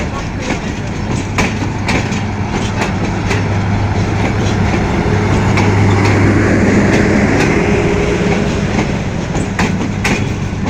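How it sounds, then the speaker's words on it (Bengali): A long Bangladesh Railway intercity train rolls out of a station, a loud, steady rumble with rhythmic clickety-clack of wheels over rail joints lasting throughout, heard close by. "বাংলাদেশ রেলওয়ে আন্তনগর ট্রেনটি ছেড়ে চলে যাচ্ছে"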